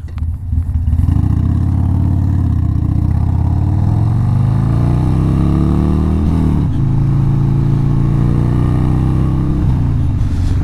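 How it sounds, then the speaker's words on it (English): A Harley-Davidson Sportster 48 motorcycle rides along, its engine a loud, steady low rumble close by, with rising and falling pitch as it changes speed through gears. "we're just going to take the 48 and just go and do a little run around Woodhead"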